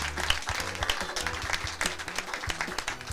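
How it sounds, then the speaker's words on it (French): Audience applause for comedian Walid Statistique at a stand-up show, steady dense clapping with a low musical hum running underneath throughout. "Merci d'applaudir Walid Statistique."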